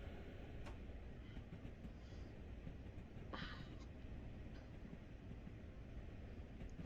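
Steady low rumble of a train coasting along rails in the video game Train Sim World, on the Long Island Rail Road, constant and droning, with faint metallic squeals and clicks now and then.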